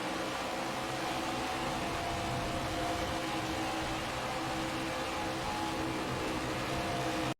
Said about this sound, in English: Engine sounds can be harsh at times and certainly can become a bit annoying during long green flag runs at bigger tracks like Daytona or Talladega.